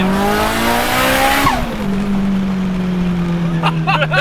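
A Mitsubishi Evo race car with a dog box gearbox roars loudly from inside the cabin, engine droning steadily with a sharp shift-like pitch change partway through.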